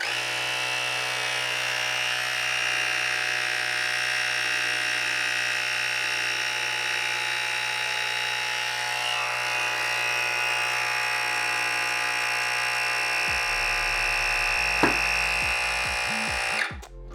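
A pump inflating a DIY Onewheel's enduro tire drones with a steady mechanical buzz for a long stretch, then sputters and cuts off abruptly at the end.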